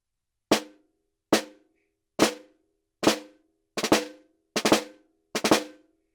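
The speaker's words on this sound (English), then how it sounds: "We're going to start off with 2 single strokes on the right hand," A snare drum plays seven crisp strikes in a row: two clean single strokes, two flams with doubled attacks, then three drags with grace-note rolls, each hit sharp and close with silence between.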